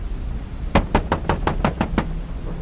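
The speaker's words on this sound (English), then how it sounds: "I was startled by a knock on the door of my RV" Knuckles rap on the door of an RV in a quick run of about eight sharp knocks, close and distinct over a faint background hiss.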